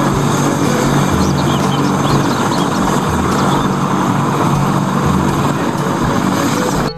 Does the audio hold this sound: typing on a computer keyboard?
no